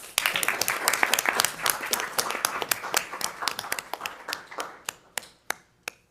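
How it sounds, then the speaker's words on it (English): Applause from a small audience at a school board of directors meeting: scattered individual claps, fairly close, building briefly then thinning out to a few isolated final claps. "So with that, we can give them a round of applause."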